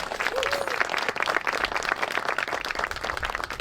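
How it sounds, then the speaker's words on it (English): A crowd at a high school groundbreaking ceremony for a new two-story building claps steadily and briskly, a dense, even patter of many hands that runs throughout. "Can we get a round of applause for that?"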